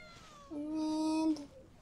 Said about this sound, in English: And here, one cat. Two cats.